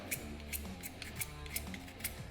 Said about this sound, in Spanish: quitarle parte de la maderita al lápiz, para que quisiéramos dejar la punta bastante más pelada